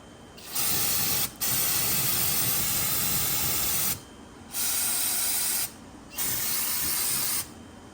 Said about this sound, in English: All right, let's see how much they like carb cleaner.